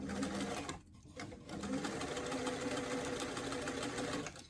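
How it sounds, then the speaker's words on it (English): A domestic sewing machine runs steadily while stitching the turtleneck collar onto a small doll top, a continuous close whirring hum with a brief pause and restart. "you want to just pull the collar and stitch"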